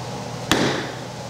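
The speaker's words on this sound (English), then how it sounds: "we're going to just tap that lightly with a hammer like that." A hammer gives one sharp tap to a chisel set in a scribe line on wood, a single crisp strike in quiet surroundings with a short ringing decay.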